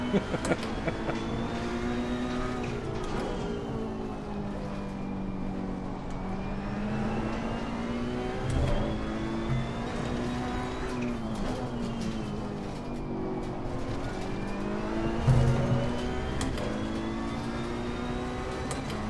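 Race car engines in Assetto Corsa Competizione hold a continuous loud drone, with pitch rising and falling through gear changes and a few brief louder surges, steady for the whole stretch.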